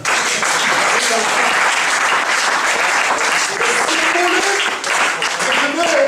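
A church congregation claps and cheers in praise during a French-language sermon, loud and sustained dense applause with crowd voices filling the whole stretch without a break.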